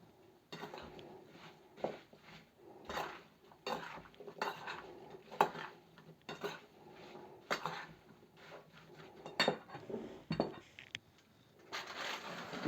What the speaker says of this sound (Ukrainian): І ще поливаю їх розтопленим вершковим маслом. І теж перемішую.